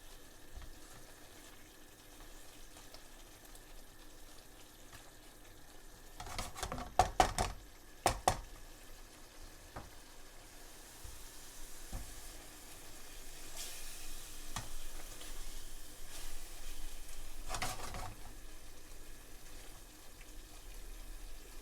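Madras curry, British Indian restaurant style, sizzles softly in a pan through a long quiet stretch, with a few sharp scrapes and knocks of stirring against the pan in the middle and near the end.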